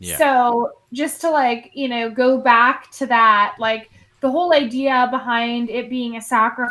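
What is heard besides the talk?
None of the usual background noises is heard.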